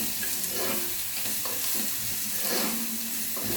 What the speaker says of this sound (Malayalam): ഇത് നന്നായിട്ട് ഒന്ന് ഇളക്കി കൊടുക്കാം.